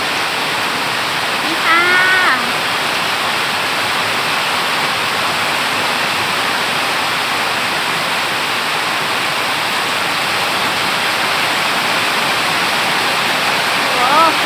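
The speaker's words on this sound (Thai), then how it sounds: "ถนนน้ำไหลเลย" Heavy rain pours steadily, and water rushes down a road in a continuous dense roar that stays loud and even throughout, with a faint voice briefly audible near the start.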